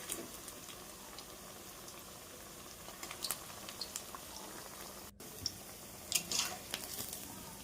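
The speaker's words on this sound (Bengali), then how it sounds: "একটু তেলটা ওপরে ছিটকে ছিটকে দিচ্ছি, যাতে ওপরটাও একটু ভাজা হয়ে যায়।" A snack frying in hot oil, with oil being spattered over the top, a steady bubbling sizzle with scattered crackles and pops throughout, fairly quiet and close; no talk.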